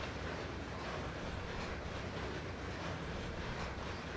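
A train on the East Broad Top line runs between Rockhill and Mount Union, heard as a steady, faint, broadband rumble and rattle with no pauses.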